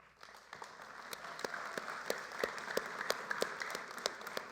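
A graduation audience at a high school ceremony applauds steadily, many hands clapping in a dense, even patter that carries on throughout, moderately distant and with no talking over it.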